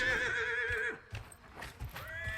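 A horse in the fantasy game Dragon Age Inquisition gives a loud, clear whinny, followed by a few soft hoof thuds and a brief snort.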